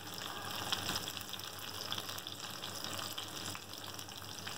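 Two green chillies frying in hot oil in a pan for mixed daal, a steady close hiss of sizzling that holds evenly throughout with no talking.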